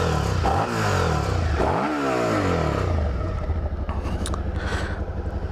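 A 2016 Suzuki SV650 motorcycle engine revs loudly close by, its pitch sweeping up and down in a couple of throttle blips before settling into a rough, pulsing idle.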